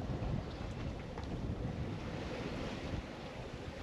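Steady wind rushes over a sailboat in a light crosswind of about 10 to 11 knots, moving near 7 knots, water washing against the hull, a continuous broad roar with no voices.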